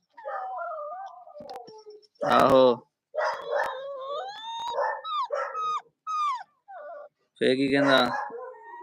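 A dog howls in long, wavering wails broken by a few sharp barks, close by, while someone talks in between.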